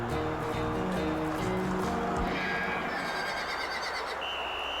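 A horse neighs inside an NFL football video game, a whinny rising over the game's steady crowd noise and music with no talk.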